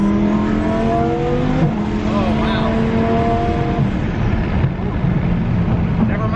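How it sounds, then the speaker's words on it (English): Twin-turbo Lamborghini Huracan engine revs loud and close while driving, the note rising then dropping with a shift before climbing again, with a brief exclaimed voice over it. "the turbos just kick in and you gotta just roll with it"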